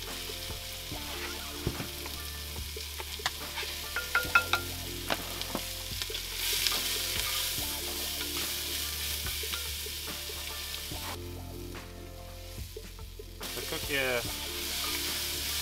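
Onion and garlic, one onion with four or five cloves, sizzle and fry in a pan while a utensil stirs and scrapes in steady irregular strokes, close and continuous at a camp cooking setup for slow-cooked chilli con carne.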